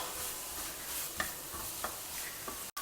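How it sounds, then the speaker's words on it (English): Vegetables and chopped onion fry in oil tempered with mustard seeds and urad dal, giving a continuous faint sizzle with a few soft stirring taps, heard alone. "Now let all the vegetables fry well together."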